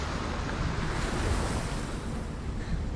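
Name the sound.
waves on water in video game Hellblade: Senua's Sacrifice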